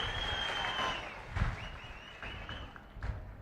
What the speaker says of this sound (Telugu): అవునంటే గట్టిగా చప్పట్లు కూడా చెప్పండి.